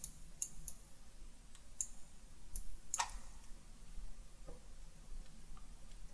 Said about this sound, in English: I keep clicking the mouse